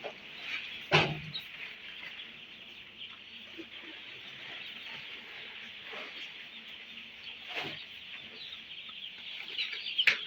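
A dense flock of young poultry chicks in a farm house keeps up a continuous high chorus of peeping, with a few louder knocks and rustles nearby.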